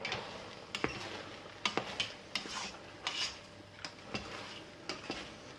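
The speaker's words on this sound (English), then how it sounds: "I can hear it sizzling on the bottom" A metal utensil scrapes and taps against a hot pan of cooking rice, giving a series of sharp clinks and rasping strokes over a soft, faint sizzle, with no talking.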